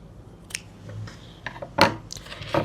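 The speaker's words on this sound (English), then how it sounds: "take your scissors and cut your yarn and leave a long tail" Scissors snip through crochet yarn in a few quiet, separate cuts, with soft handling rustles between the sharp clicks, close and without speech.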